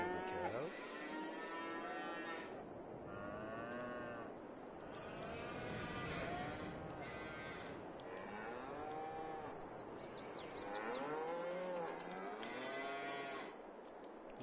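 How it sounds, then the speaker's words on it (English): Cattle in a farming video game, a herd of calves, young and old cows lowing again and again, with overlapping moos of varied pitch from several animals close by and no talking over them. "You got baby cows, which are back over there. We got not so baby cows. And then we got old cows."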